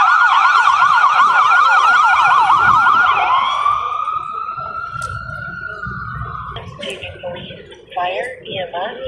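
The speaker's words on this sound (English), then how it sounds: "Now they have an ambulance." An ambulance siren wails loudly nearby in a fast, rising-and-falling yelp, then shifts to a slower sweep and fades as it moves away, with faint voices and a brief burst of siren near the end.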